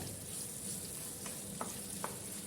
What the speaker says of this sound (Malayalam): എല്ലാം കൂടി നല്ല പോലെ ഒന്ന് ഇളക്കി കൊടുക്കുക.